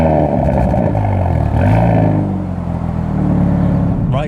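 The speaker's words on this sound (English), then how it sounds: "now let's go for a drive in the Hyundai i30N" A 2022 Hyundai i30N front-wheel-drive hot hatch drives along with a loud, close engine drone. The note rises under acceleration and then settles into a steady cruising rumble, with no talk.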